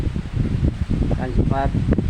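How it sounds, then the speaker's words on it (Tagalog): Strong typhoon wind roars and buffets the microphone at a hilltop resort, a dense continuous rumble with gusty surges, while a voice breaks through in short bursts. "Tingnan natin, malakas ang hangin dito"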